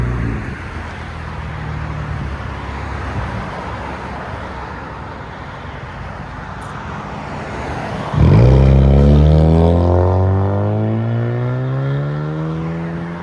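A 2020 Nissan Altima SR with a 2.5-liter four-cylinder and fully straight-piped exhaust idles with a raspy drone, then abruptly revs hard into a loud, booming roar that slowly settles back down, recorded up close.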